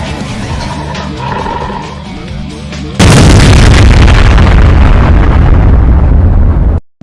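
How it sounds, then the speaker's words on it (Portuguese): A loud explosion sound effect bursts in abruptly after a quieter, rumbling lead-in, then a dense roaring blast holds for several seconds before cutting off sharply. "Cortex ficaria impressionado com o barulho da explosão"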